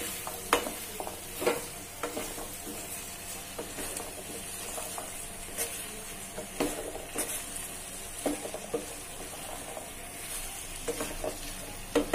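Chole, a chickpea curry, fries in a pan while being stirred, giving repeated scraping and clattering strokes over a constant close sizzle with no voices.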